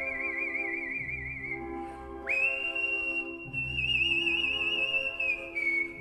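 A person whistles at a whistling convention, sustained clear melodic tones with vibrato and a sharp upward slide midway, held steady over a low rumbling background throughout.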